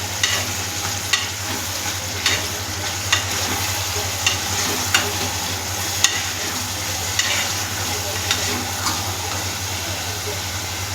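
Onions, tomatoes and green chillies are frying in a pan while a spoon stirs them, giving steady sizzling with regular scraping clicks about once a second, close and moderately loud, with no talk.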